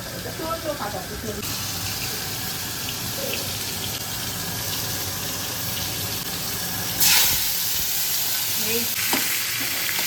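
Neem leaves frying in hot oil in a home kitchen give a steady, moderately loud sizzle that runs throughout, with occasional stirring clatter and a brief louder burst near the end.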